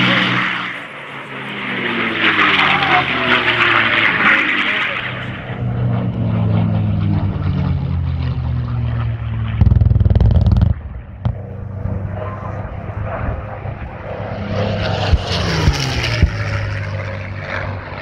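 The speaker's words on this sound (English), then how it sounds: "Now, off goes the P-51." P-51 Mustang warbird at an airshow takes off, its piston engine and propeller roaring loudly and close, then droning steadily as it climbs away, with a brief bump of handling noise midway.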